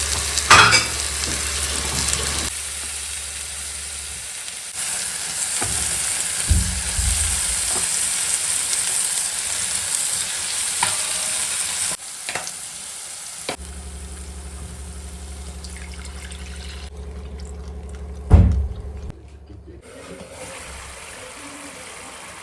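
Ginger-garlic paste with cumin, coriander and chili powder frying in a pan for crab and potato curry, a loud steady sizzle with stirring scrapes and a sharp clatter near the end, no voices.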